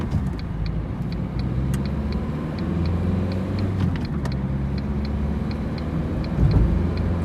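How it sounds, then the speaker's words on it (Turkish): Small Ford Fiesta or Hyundai Getz pulling away from a standstill on a road, with a steady engine rumble that builds gently over several seconds. The drone stays close and continuous, the only sound in the cabin, with no talk. "Bir kalkış videosu yapalım. Bakalım kalkış nasıl."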